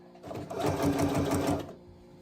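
A sewing machine stitches a seam in one short, close burst of rapid whirring, starting and stopping within about a second and a half.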